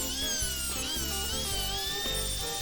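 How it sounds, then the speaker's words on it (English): A handheld router with a 1/2 inch bit cuts a lip around a jig for a router table insert plate, a steady high whine with rough cutting noise running throughout, close and loud. "I could then make my first pass around the jig to create the lip for the router plate to sit on"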